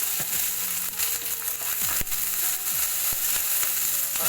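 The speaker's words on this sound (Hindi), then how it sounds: "अब हम इसमें डालेंगे कटा हुआ शिमला मिर्च और प्याज।" Chopped capsicum and onion frying in olive oil in a kadai, a loud, dense, continuous sizzle close by, with faint scraping of a spatula.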